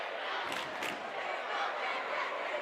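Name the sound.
basketball crowd and student section cheering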